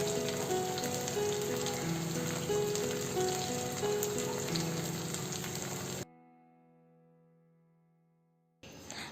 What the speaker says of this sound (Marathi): अजून याला आपण दुसऱ्या साईडनं पण छान फ्राय करून घेऊया